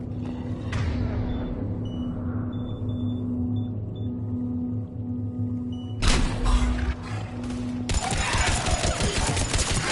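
Gunfire in Mass Effect 3 over a steady humming engine drone, quiet at first, then two loud bursts of sustained rapid shooting near the end.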